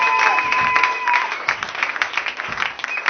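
A church congregation at a Bible conference applauds to acclaim Jesus: dense, steady clapping for about three seconds, close and full, with faint voices and tones mixed in.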